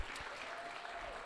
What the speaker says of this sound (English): Give yourselves a round of applause for being out here tonight